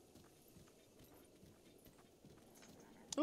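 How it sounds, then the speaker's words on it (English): Hooves of a blue-and-white horse clip-clop at a steady walking rhythm in Zelda: Breath of the Wild, soft and fairly quiet throughout, ending in a brief louder burst. "Ooh, that's a pretty horse."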